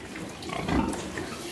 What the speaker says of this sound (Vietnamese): Một tí nữa thì mấy con heo này nó nằm xuống thì mình quay cho các bạn xem